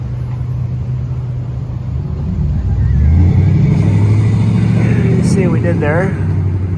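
A 2021 Dodge Durango with Flowmaster Outlaw mufflers, an H-pipe in place of the middle resonator and the rear mufflers kept, rumbles at idle then revs up into a deep, loud growl, with someone talking over it.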